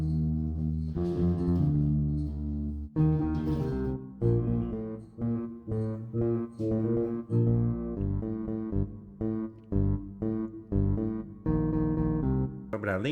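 MuseScore playback of a bass tab arrangement of Beethoven's Fifth, a synthetic bass line of short, punchy repeated notes and sustained tones in a steady, clipped rhythm, clear and close with no talk.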